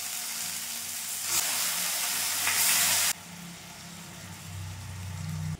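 Square-cut onions and capsicum sizzle steadily in a hot pan, a loud frying hiss that dips partway through as the pieces are stirred, with no talking over it.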